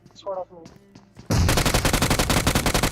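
Rapid, loud automatic gunfire in a video game bursts in after a moment of talk, a dense string of closely spaced shots that keeps going to the end.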